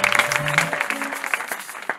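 A church congregation claps together in a brisk, uneven burst of applause, close and fairly loud, thinning slightly toward the end.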